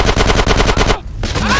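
Rapid automatic gunfire from Grand Theft Auto San Andreas rattles in a steady burst close and loud, cuts off abruptly, then resumes after a brief gap.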